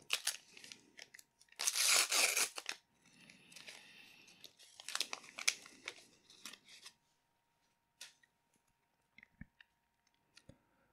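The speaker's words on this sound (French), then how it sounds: "Sans attendre, on ouvre tout de suite le premier booster." A Flesh and Blood trading card booster pack being torn open up close: bursts of crinkly foil ripping and rustling, then quieter shuffling and a few small clicks as the cards come out, with no voices.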